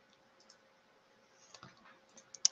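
A computer mouse clicks a few times during a Google Forms session, soft isolated clicks with one sharper click near the end, over a faint background hum.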